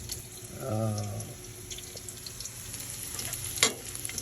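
Ginger sautéing in hot oil in a wok-style pan makes a continuous frying sizzle, close but soft, with a brief low hum early on and a sharp clatter near the end.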